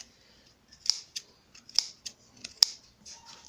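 Scissors snipping notches around a fabric piece for a child's fabric hat, a series of sharp, close, crisp cuts at an irregular pace in a quiet room.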